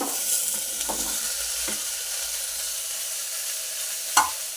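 Vegetables tossed into a hot pan for Tirunelveli sothi kuzhambu hiss and sizzle steadily at close range, with a few soft scrapes of stirring and a sharper clack near the end, no talking.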